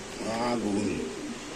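Pigeons coo in soft repeated rolling notes up close, two pairs kept at a pigeon market, with a voice talking over them.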